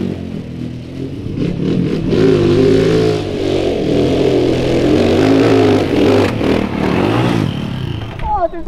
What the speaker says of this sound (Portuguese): Você escuta a moto berrando do lado e a moto já vai lá pro final da escada